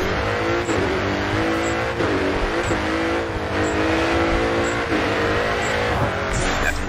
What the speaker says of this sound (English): Get the car sideways and carve yourself a path through the mountains.